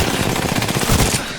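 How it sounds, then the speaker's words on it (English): Rapid automatic gunfire from the Apex Legends video game rattles in a loud, dense burst lasting just over a second. "I'm getting shot."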